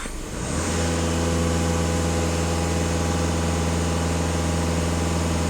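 A Skoda Octavia A7 with a 2.0 TDI diesel engine runs at raised revs, giving a steady, loud, even drone that holds for several seconds with no talk.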